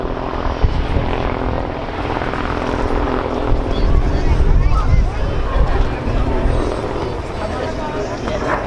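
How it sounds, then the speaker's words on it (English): AAC Apache attack helicopter making a running takeoff at an airshow, a loud, steady rotor and engine roar with chopping blade thump that swells and holds for several seconds, with crowd babble faintly underneath. "Apache is conducting a running takeoff, which is a technique that we use in hot and high conditions"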